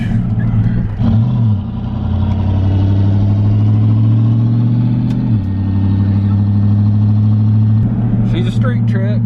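A turbocharged Chevrolet Colorado truck's engine held loud and steady on a two-step launch limiter, its pitch stepping down and back up. The droning tone continues throughout and there is no talk.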